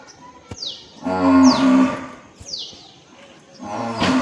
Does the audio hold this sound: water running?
no